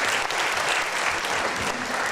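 A hall crowd at a best-teacher-of-the-year competition claps for the teachers in a thick, continuous wash of applause, loud and steady throughout, with no one talking over it.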